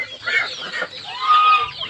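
Bangkok chickens clucking on a dry farm plot, a run of close, fairly loud bird calls with rising tones, steady over the whole stretch and no talking.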